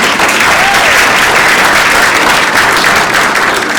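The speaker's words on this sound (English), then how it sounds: "let's have another round of applause" Loud, sustained applause from an audience at a school poetry show, continuous and full throughout.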